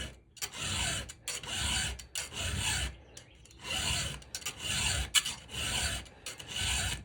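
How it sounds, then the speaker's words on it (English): Rhythmic rasping strokes of a hand file sharpening a Hipa or Duke's chainsaw chain, about eight steady back-and-forth bursts with brief pauses between them, close up. "Let's throw the file to this and see how she does."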